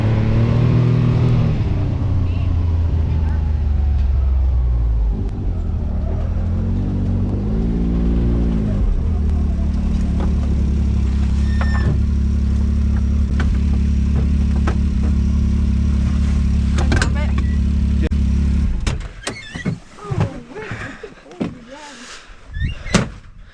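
A 2022 Can-Am Maverick X3 XRC Turbo RR side-by-side idles and revs loudly for a long steady stretch, then pulls away on its first drive, its engine note breaking into uneven bursts and fading.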